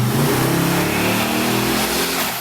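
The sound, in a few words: truck engine revving on a dyno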